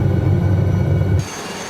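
An SA315B Lama helicopter in Microsoft Flight Simulator gives a loud, steady low rotor and engine rumble that drops off sharply near the end, leaving a quieter hum, with no talking.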